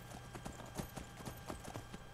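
Quick, evenly spaced hoof strikes from Shadowmere, the horse in Skyrim on PS4, patter in a short burst of galloping, near and distinct over a soft background hum.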